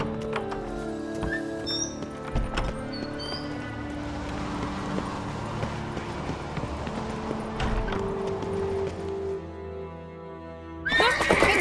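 Horse hooves clip-clop at a run with repeated neighing and whinnying in the video game The Witcher 3: Wild Hunt, layered over game music and ambience, with a louder burst near the end.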